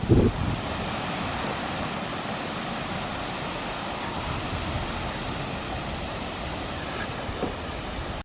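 Strong wind gusts across open ground along an ancient avenue near a henge, a constant loud roar buffeting the microphone with no let-up, and a brief rumbling thump at the very start.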